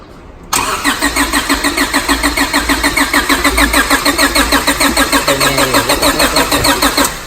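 A 1997 Honda Civic hatchback with an H2B engine swap starts and then revs in quick, even pulses, loud and close, with a rhythmic throb that carries on to the end.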